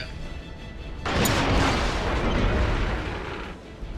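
Tank cannon fire during a World of Tanks clan wars battle: a heavy boom erupts after a second of background noise and rolls on as a dense, sustained rumble before tailing off.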